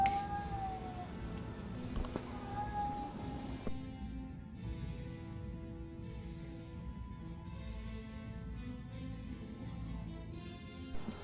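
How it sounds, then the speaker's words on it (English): A house cat meows a few times, with short drawn-out calls near the start, heard over steady background music and game sounds in a room. "my cat's making noises"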